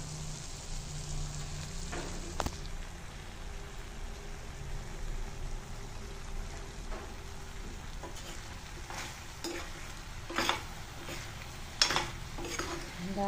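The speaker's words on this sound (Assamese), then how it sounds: "এফালে এখন লেবেৰা ভাজি বনাই আছোঁ" Mixed vegetables, including carrot, eggplant, potato, hyacinth beans and tomato, fry quietly in a pan, with a faint steady sizzle and a few scattered utensil clinks toward the end.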